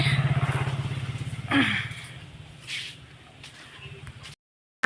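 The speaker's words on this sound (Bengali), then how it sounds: "বাইক নিয়ে যাচ্ছে" A motorcycle engine putters loudly nearby on a village road, then fades as it passes, leaving faint outdoor background before the sound cuts off.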